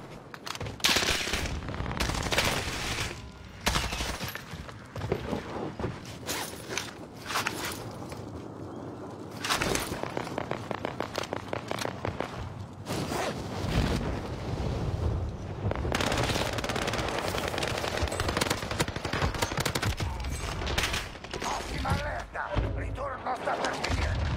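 An XM4 rifle fires in Call of Duty in rapid, loud bursts and near-continuous volleys with short lulls, while someone talks over the gunfire.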